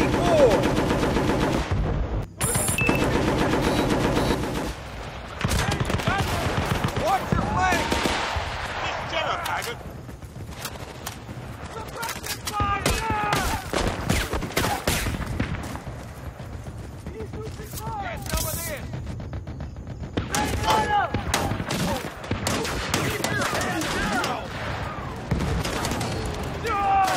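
Rapid machine gun bursts and scattered gunfire from the Xbox 360 game Battlefield: Bad Company, loud and dense through most of the stretch, with brief pauses and shouted voices mixed in among the shots.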